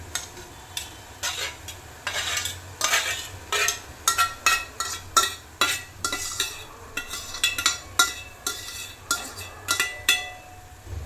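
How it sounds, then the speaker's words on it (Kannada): A spoon scrapes and clinks repeatedly against a pan in a steady stirring rhythm as boiled lentils are added, with a soft sizzle underneath and no voices. "ಇದಕ್ಕೆ ಬೇಳೆ ಕುದಿಸಿ ಇಟ್ಕೊಂಡಿರೋ ಬೇಳೆ ಹಾಕೋಣ"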